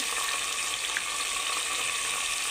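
Salt, turmeric and finely chopped green chillies frying in a pan for a ridge gourd and moong dal curry, giving a loud, constant, even sizzle throughout with no talking.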